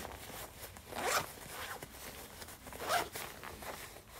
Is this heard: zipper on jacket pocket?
yes